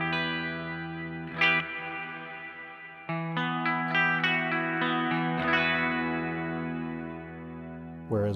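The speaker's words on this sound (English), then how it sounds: "So you might have a moderate reverb setting like this." Electric guitar through a Mad Professor Kosmos reverb pedal at a moderate setting: chords and picked notes ring out with a smooth reverb tail that sustains and fades between phrases.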